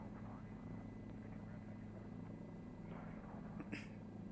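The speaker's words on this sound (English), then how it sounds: "I need to practice my helicopter flying." Helicopter flying over Melbourne in Microsoft Flight Simulator 2020, a steady low rotor and engine drone held at an even level throughout, with a brief brighter blip near the end.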